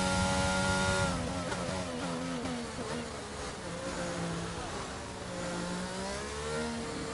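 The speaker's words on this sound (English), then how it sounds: "Little lift and downshift into Blanchimont." In a racing game at Spa, a car lifts and downshifts into Blanchimont, its engine a continuous high buzzing whine whose pitch dips and climbs again. The sound is loud and steady, with no talk.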